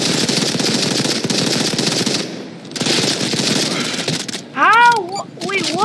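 Rapid automatic gunfire rattles loudly in a video game, a dense continuous burst that pauses and resumes, followed by excited shouting.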